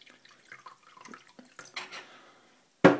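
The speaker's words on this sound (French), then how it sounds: "Je rajoute un petit peu d'eau." Water poured into a bowl while making homemade glue, soft splashing and dripping with small clinks of kitchenware, ending in a sudden louder clatter, close and quiet.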